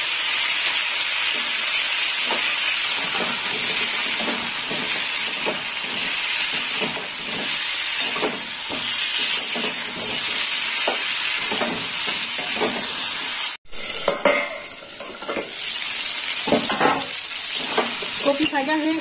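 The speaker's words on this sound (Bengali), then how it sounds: "কপি ভাজা হয়ে গেছে, কপিটা তুলে নেবো।" Cauliflower pieces with turmeric frying in hot oil in a home kitchen, a bright continuous sizzle and hiss with small crackles and stirring, briefly cut off near the end before resuming.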